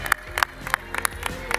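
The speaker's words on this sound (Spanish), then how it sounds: "Fuerte el aplauso para Sisi" Scattered applause from a small audience at a fighter's weigh-in, a handful of sharp, uneven claps spread across a second and a half, close and fairly light.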